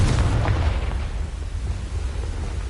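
Confringo blasting spell in Hogwarts Legacy, a loud, deep explosive burst with a heavy low rumble that slowly fades as it dies away.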